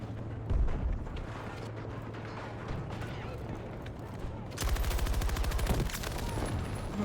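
Intense gunfire and explosive blasts from Battlefield 2042 combat, including a thrown fire grenade, roar loudly and continuously, with a heavier burst of rapid shots late on and voices mixed under the chaos.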